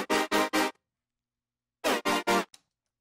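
A real brass pad layered with a Serum synth patch sounds as three short, bright, blaring stabs, a pause of over a second, then three more stabs, loud and isolated.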